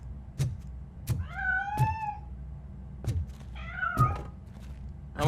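A cat in the RoboCop: Rogue City video game lets out two drawn-out, wavering meows between several dull thumps and clunks, close and fairly loud with no talking.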